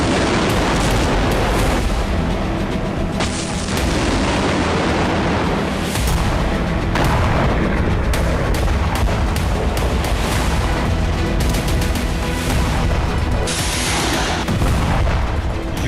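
Continuous loud, rumbling explosions and booming blasts from ATACMS and Storm Shadow missile strikes in Kursk, one after another, with crackling bursts throughout and no pauses.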